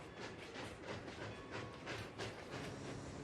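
A Bachmann plastic model Rio Grande narrow gauge mogul locomotive with a short freight trundles over a high trestle bridge on an indoor layout, a soft steady rumble with faint rhythmic clicking, quiet under a constant hiss.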